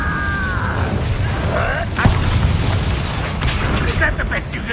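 An Incendio fire spell in Hogwarts Legacy hits with a sharp, booming burst midway, and a low roar carries on afterward. A voice is heard just before the blast.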